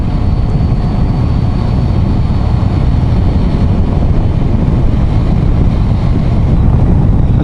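Strong wind buffets the microphone while cycling through town on a windy day, a loud, steady roar of gusting rumble that fills the whole stretch without a break.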